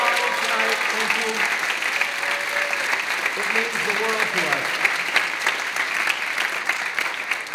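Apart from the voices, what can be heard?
audience applause for school administrators and faculty at concert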